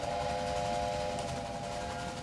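A steam locomotive whistle sounds in the railway building game Railway Empire, one long steady blast held through the whole stretch over a rushing hiss of steam and rolling train noise.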